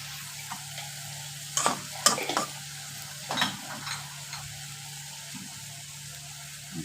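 Bitter gourd and prawns fry in oil in a pan under a steady low sizzle, broken by a few bursts of spatula stirring and scraping. No voices.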